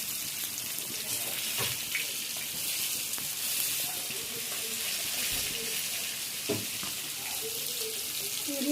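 Chicken fries in a pan, a steady close hiss and sizzle with occasional light clinks and bumps throughout.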